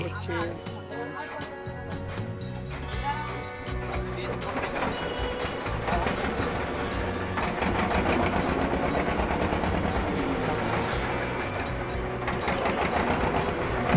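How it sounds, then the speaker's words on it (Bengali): A river launch's engine on the Ichamati River starts up and runs with a steady, loud mechanical drone and clatter. Talk can be heard over it. "লঞ্চের ইঞ্জিন চালু করা হচ্ছে"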